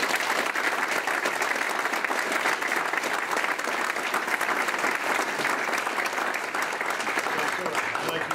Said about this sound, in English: Let's give Robbie a big round of applause.